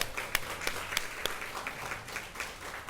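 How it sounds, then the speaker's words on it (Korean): A church congregation claps encouragingly during a worship service, a thin, scattered applause with a handful of sharper individual claps standing out over a soft, fading patter. "우리 격려의 박수 한번 드리겠습니다"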